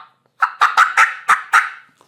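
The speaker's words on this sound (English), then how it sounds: "just hit a few notes and he gobbles" A wild turkey gobbles nearby, one loud burst of six quick, throaty rattling notes that rise and then stop, with silence before and after.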